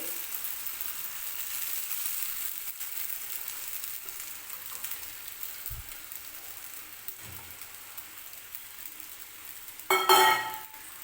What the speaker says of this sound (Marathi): तर शाबू टाकून घेतलेले आहेत कढईमध्ये